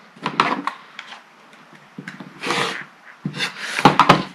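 A rotary cutter slices along a ruler through the edge of quilt fabric, giving several short scraping rasps spaced apart, close and clear with no talking.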